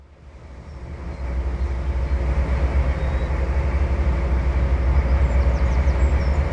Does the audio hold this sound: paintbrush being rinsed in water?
no